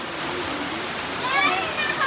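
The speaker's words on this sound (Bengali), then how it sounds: "কি বৃষ্টি হইতেছে রে, প্রচন্ড" Heavy monsoon rain falls steadily as a dense, continuous hiss with no break, and the patter swells a little louder toward the end.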